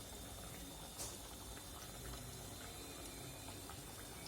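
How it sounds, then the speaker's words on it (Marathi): Semolina (rava) fries deep frying in oil over low heat, a faint, steady bubbling hiss that runs evenly throughout with no voices. "आता असेच आपण छान तळून घेऊया."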